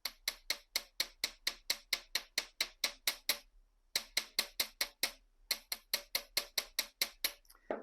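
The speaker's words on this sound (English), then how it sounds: "I'm going to take my chasing hammer and I'm going to flatten this a little bit." A small chasing hammer taps square metal wire flat in quick, even strikes, about twenty in a row, a short pause, then another steady run of taps, close and crisp.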